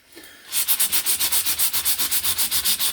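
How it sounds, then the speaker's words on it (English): Sandpaper rubs varnish off a wooden table top, working with the grain: after a brief quiet start, a loud, close, rapid back-and-forth rasp repeats in an even rhythm. "always sand with the grain, so in the same direction as the grain, and don't sand across the grain"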